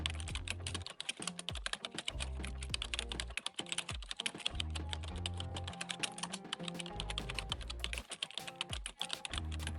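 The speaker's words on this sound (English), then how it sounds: "type Supertrended RSI into the search bar and press enter" Rapid typing on a computer keyboard while entering a search term into a trading platform's search bar, with dense, continuous clattering keystrokes close to the mic and no voices.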